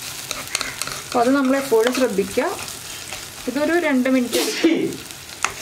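Ginger and onion fry in a pan for a Kerala kozhuva fish curry while being stirred, giving a soft sizzle and scraping that run beneath someone talking.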